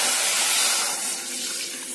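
Roughly 200 grams of water poured onto 600 grams of sugar for gulab jamun syrup, a brief bright rushing splash close by that tapers off slightly, alone with no talk.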